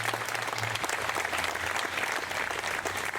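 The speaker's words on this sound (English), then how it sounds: "Can we give them a round of applause?" An audience claps for speakers at the rededication ceremony of Maine Hall, a steady, even wash of applause from a gathered crowd that is moderately loud and continuous throughout, with no talking.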